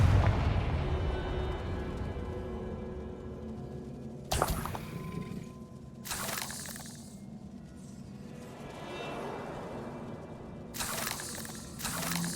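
Confringo spell explosions in the Hogwarts Legacy video game: several sharp, loud blasts, each bursting out and then decaying, spread over a low rumbling background with no talking.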